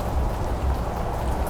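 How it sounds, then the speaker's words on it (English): Light evening rain sprinkles outdoors in Las Cruces as a steady, soft patter with a low rumble underneath, continuous and even throughout, with no voices. "I'm going to go inside because it's sprinkling."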